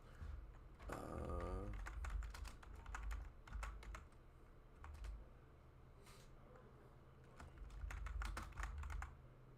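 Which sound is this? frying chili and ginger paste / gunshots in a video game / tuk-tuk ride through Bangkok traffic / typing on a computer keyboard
typing on a computer keyboard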